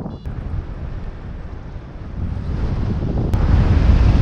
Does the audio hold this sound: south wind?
yes